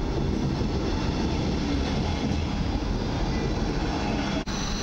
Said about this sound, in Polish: I rusza pociąg osobowy przyspieszony w jedenka.